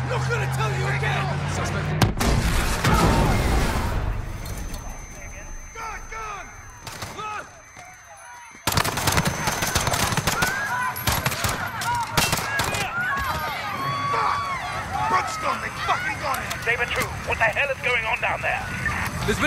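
A Call of Duty police shootout at Piccadilly Circus, with bursts of rapid gunfire and single shots crackling amid shouting voices, loud and dense, with a brief lull before the shooting resumes.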